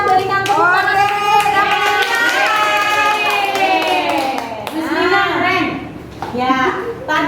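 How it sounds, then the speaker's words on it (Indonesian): A sixth-grade class clapping hands together in a rhythmic classroom clap, the claps mixed with loud children's chanting voices throughout. "kita berikan tepuk tangan"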